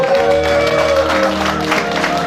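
A crowd claps and cheers steadily throughout a launch ceremony, a dense wash of applause with voices rising over a held musical tone.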